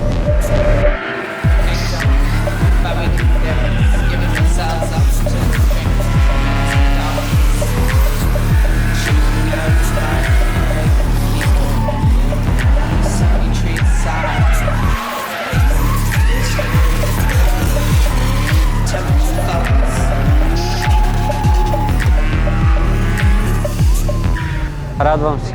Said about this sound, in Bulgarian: да се наслади на първото планинско дрифт състезание в България